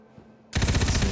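A submachine gun in Tiny Tina's Wonderlands bursts into loud, rapid automatic fire after a moment of near silence, with the rattling shots continuing to the end.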